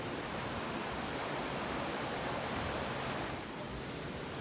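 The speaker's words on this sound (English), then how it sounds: "there's the little river that runs through" A little river runs through a town with restaurants and breweries, its flowing water a steady broadband rush that stays loud and constant throughout, briefly dipping near the end.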